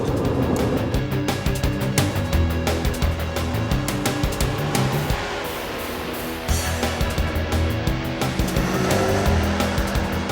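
A 1997 Honda Integra engine revs hard toward 9,000 rpm, climbing in pitch in repeated sweeps, with sharp ticking bursts and a brief lull midway before pulling high again.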